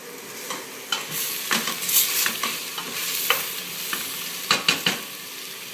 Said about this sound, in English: Now the meat start frying.